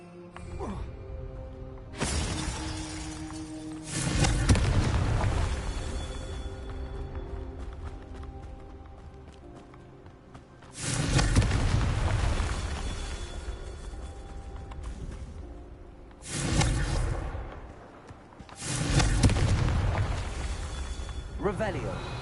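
Confringo blasting spells in Hogwarts Legacy burst out as loud, booming explosions, several in a row separated by a few seconds, each decaying into a rumbling tail over ambient game sound.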